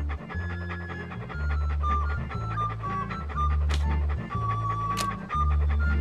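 Walt, a dog in the Monkey Island 2 video game, pants in repeated rhythmic breaths across several seconds, blended with looping chiptune-style background music and no voices.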